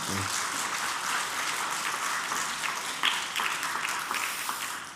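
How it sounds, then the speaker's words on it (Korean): A church congregation at a combined-generations Sunday service applauds in a sustained, moderately loud wash of clapping that stays fairly even throughout, with a few brief voices mixed in. "우리 다시 한번 박수로 축복해 주십시오"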